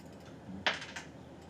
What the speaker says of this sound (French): Utilise la touche tabulation de ton clavier.